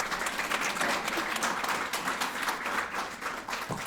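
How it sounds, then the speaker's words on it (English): Steady applause from an audience at a veterans' recognition ceremony, dense clapping filling the room for a few seconds and easing slightly toward the end. "Let's give them a big round of applause."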